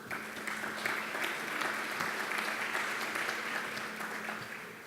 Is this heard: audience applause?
yes